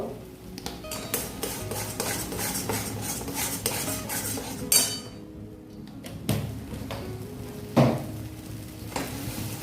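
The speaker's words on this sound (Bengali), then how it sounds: "এটা বেশ একটু ভালোভাবে নেড়ে নেব।" Metal spoon clinks and scrapes in a pan while stirring a mash of ridge gourd, prawns and garlic, with repeated close taps and a few sharper knocks against the pan.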